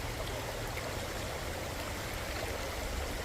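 Stream water flowing steadily at Shasta City Park, near the headwaters, a constant broadband rushing and gurgling with no pauses or voices.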